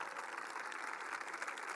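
Faint applause from a political audience greeting a guest senator, a steady, even wash of distant clapping for under two seconds with no talk.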